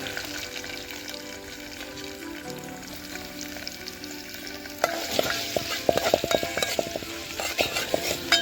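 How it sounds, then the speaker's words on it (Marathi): Chopped onion hitting hot oil for a Marathi dal bhaji sizzles steadily up close; the frying grows louder about halfway through, with stirring and utensil clatter over the hiss. "तेल सुद्धा मस्त गरम झालेलं आहे. त्याच्यानंतर टाकते कांदा."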